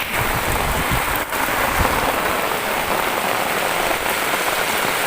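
Steady, loud rain pours down, drumming continuously on a nearby surface with dense, even patter throughout.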